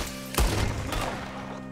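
A burst of gunfire in the video game Red Dead Redemption 2, a loud sharp shot followed by a second report, with a low booming tail.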